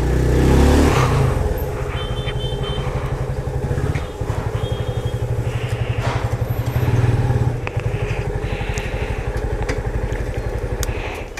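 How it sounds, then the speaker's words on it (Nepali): A motorbike's engine runs steadily up close as it rolls into a parking spot, with a deep throbbing idle, a brief swell of revs around the middle and a few clunks near the end. "यहाँ पार्किङमा बाइक राखौँ"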